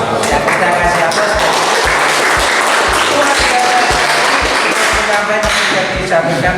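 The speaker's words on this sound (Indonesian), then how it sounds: "Ya, kita kasih aplaus." A seated audience at a positive school-culture talk breaks into sustained, dense applause filling the room at steady loudness, with a low rhythmic thumping running beneath the clapping throughout.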